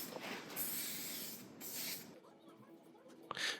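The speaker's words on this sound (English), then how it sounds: "we just spray it down with some black spray paint just to give it a nice clean finish" Short hissing bursts of black spray paint coat the outside of a custom 24V LiFePO4 battery box, about three separate sprays with quiet gaps between them, close up and with no speech.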